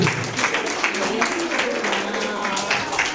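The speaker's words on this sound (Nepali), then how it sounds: "ताली बजाउनुहोस्" Audience applause at a church gift-exchange gathering, a steady wash of clapping lasting throughout, with a voice speaking over it.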